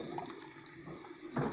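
Beans with a bay leaf in a cooking pot, thickening and starting to boil, give a soft, steady bubbling and simmering murmur, close and quiet with a slightly louder burble near the end.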